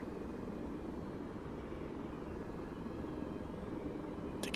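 A helicopter in the video game ArmA 3 drones continuously, a steady low rotor and engine rumble held at an even level without talk.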